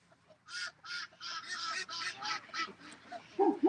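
Ducks call out in a rapid, honking series of quacks, close and fairly loud, with a few softer calls before and a louder burst at the end.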